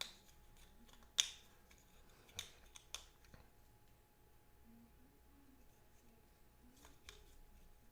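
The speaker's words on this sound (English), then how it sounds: "So we will shuffle up." A deck of game cards for an Eldritch Horror board game session being shuffled at a table: faint, sparse riffles and snaps in a quiet room, a few sharp clicks standing out against low background noise.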